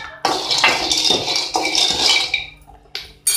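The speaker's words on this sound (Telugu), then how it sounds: "పల్లీలు ఈ విధంగా వేయించుకోవాలి" Groundnuts being dry-roasted in a pan rattle and clatter as they are stirred, with repeated sharp scraping and clinking strokes close by, a few seconds apart, each fading before the next.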